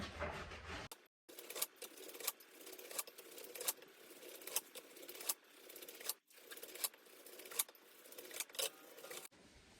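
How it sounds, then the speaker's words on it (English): A knife saws through a cooled loaf of homemade bread, cutting even slices in a steady rhythm of repeated rasping strokes, close and quiet, with brief pauses between slices. "let me get my bread cut"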